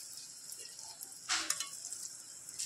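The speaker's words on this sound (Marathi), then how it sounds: "त्यामुळे आपलं तेल इथे गरम करत घेतलेले आहे आणि त्या एक एक करून शेंगा सर्व सोडून घ्यायच्या आहेत" Batter-coated drumstick pods dropped one by one into hot oil in a pan, a faint steady sizzle with one sharp burst of crackling spatter as a piece goes in.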